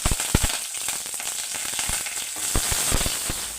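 Mustard seeds, dried chilies and curry leaves crackle and sizzle in a spoonful of hot oil as a tempering for tomato chutney. Dense frying hiss runs steadily, with sharp pops scattered throughout.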